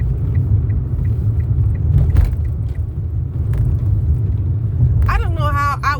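A Honda CR-V's engine and road noise rumble steadily and loudly from inside the cabin as it drives, with a brief voice near the end.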